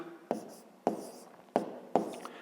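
Handwriting on paper during a 5th-grade math lesson: four distinct scratchy pen strokes, evenly spaced and close, with no talking.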